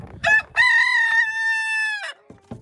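A rooster crows loudly and close by, one long drawn-out call after a short opening note, while chickens cluck briefly around it in a farmyard near a compost pile.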